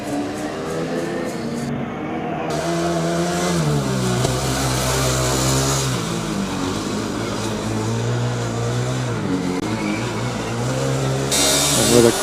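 Formula Student combustion race cars rev loudly as they pull back onto the track, engine pitch climbing and falling through shifts, close and dominant throughout.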